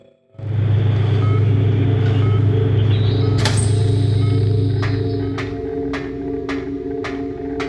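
A video game elevator in Crow Country descends into mines: a heavy mechanical hum drones steadily, joined by a rising whine and a sharp metallic clank, then fades to lighter machinery with a series of regular clicks.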